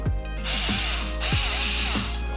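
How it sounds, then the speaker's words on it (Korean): A cordless electric drill from IKEA, used while assembling a monitor arm, whirs in about four short revving bursts. Each burst has a rising whine and a ratcheting mechanical rattle, heard up close. "생각해보니까 저한테 전동 드릴이 있었어요. 이케아에서 산 거."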